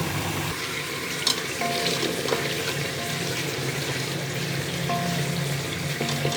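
Chicken with onion and tomato sizzles in a pan with a steady hiss. Occasional stirring clinks and a faint running-water sound sit beneath it, and no one speaks.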